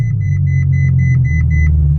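A Ferrari F12 idles with a deep, steady low rumble close by, its tone shifting slightly as it settles, while a repeating electronic chime beeps in a regular rhythm over it, then stops.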